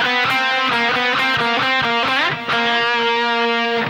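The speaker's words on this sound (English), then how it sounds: "So that whole riff together sounds like this." A distorted electric guitar chugs through a riff, rapid palm-muted strokes and ringing chords in a tight driving rhythm, loud and close, with a brief slide near the middle.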